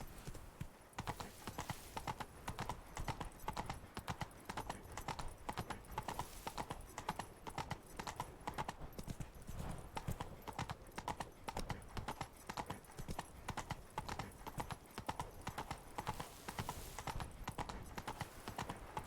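Horse hooves clip-clop in a steady, continuous rhythm from Roach the horse in The Witcher 3, with a brief whinny and faint ambient game sound beneath the hoofbeats.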